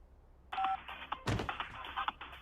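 A cartoon mobile phone ringtone, a bright electronic beeping melody in short repeated tones with a thump partway through, fairly quiet and without talk.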